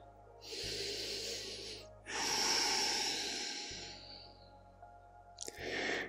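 Slow, deep breaths during a chair yoga session, each long airy inhale and exhale heard close and soft. A short sniff comes near the end.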